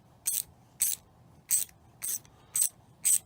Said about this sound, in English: We use the ratchet that comes with the tool.